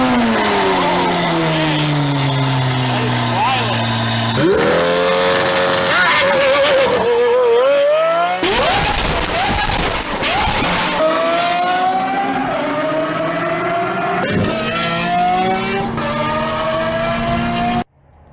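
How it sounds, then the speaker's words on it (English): A Lamborghini Aventador aftermarket exhaust revving hard in repeated rising and falling blasts, loud and close, with crackling pops between pulls, no talking. "the best sounding exhaust system on an Aventador I have ever heard"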